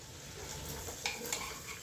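Sautéed food is stirred in a pot on a wood-fired stove while it sizzles quietly, and two brief utensil scrapes stand out over the low frying hiss.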